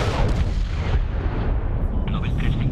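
A bomb fires in the video game Medal of Honor, a heavy booming blast that rolls on as a dense, loud rumble, with a voice briefly audible over it.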